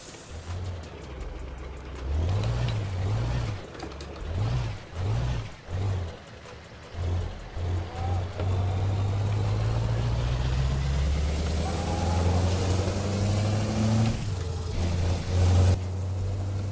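A heavy truck engine with a modded exhaust in Euro Truck Simulator 2 rumbles with rhythmic revving pulses, then settles into a steady, rising drone as it accelerates, without speech.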